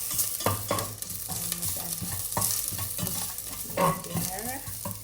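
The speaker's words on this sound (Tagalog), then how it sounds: "dito ko na rin igigisa yung mga ginger" Ginger sautéing in a pan for oxtail curry, a steady close sizzle broken by repeated scraping stirs, with no talk over it.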